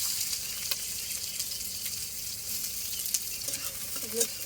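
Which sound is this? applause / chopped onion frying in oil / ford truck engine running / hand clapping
chopped onion frying in oil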